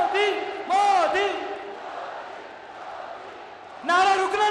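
A large crowd at a Narendra Modi public meeting in Chittorgarh, Rajasthan, chants the prime minister's name in loud, rhythmic voiced bursts that stop for a short gap and then start again.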